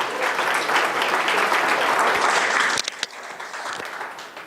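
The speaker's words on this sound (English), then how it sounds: "I think he even deserves a more round of applause" Dense audience applause at an Ambition 2013 event in New York, loud and steady for nearly three seconds, then dropping off to a few scattered claps and a thinner, softer tail.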